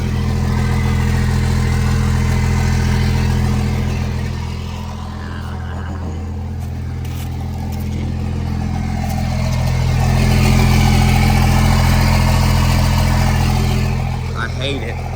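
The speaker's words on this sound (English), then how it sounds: "the exhaust is cut underneath the truck, and it sounds awful and is incredibly loud" A Cummins diesel truck engine in a 2nd-gen truck with its exhaust cut underneath runs as a loud, deep, steady drone that swells and dips slightly, with no talking over it.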